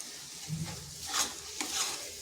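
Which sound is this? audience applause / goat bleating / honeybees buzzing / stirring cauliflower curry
stirring cauliflower curry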